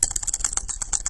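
Rapid typing on a computer keyboard while entering a Linux terminal command, a dense run of crisp, close key clicks with no voices.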